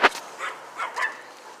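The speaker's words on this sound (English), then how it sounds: "That's a chihuahua." A chihuahua puppy gives one sharp close bark followed by a few softer yips and whines.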